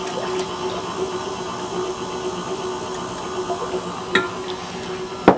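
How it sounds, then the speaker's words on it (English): An electric mixer with a whisk attachment beats evaporated milk on a low speed setting, giving a steady, moderate motor hum with a faint tonal whine and a couple of brief clinks near the end. "I'm just going to put this whisk on about number 2 to start with."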